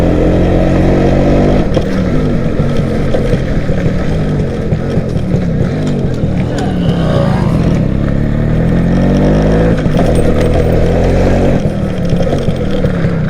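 A Suzuki AX 100 two-stroke motorcycle engine, with a carburetor not running at its best, buzzes close by in a steady, raspy idle with slight rises in revs.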